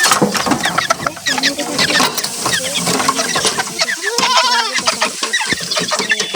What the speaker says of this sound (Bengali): মোরগটা সবসময় আপনার এই লেয়ার মুরগির সাথে থাকতে পছন্দ করে